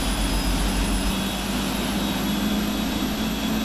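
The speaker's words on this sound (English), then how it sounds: "we have a set of Rolls-Royce engines" Rolls-Royce jet engines on a Cargolux Boeing 747-400F in a flight simulator give a steady, unbroken roar with a whining tone on top, loud and even throughout, with no voices.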